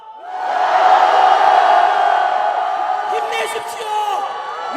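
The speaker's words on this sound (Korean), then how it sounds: "우리의 함성이 들리십니까?" A large crowd at a political rally roars and cheers in one loud swelling shout of many voices that holds for several seconds and then eases off slightly.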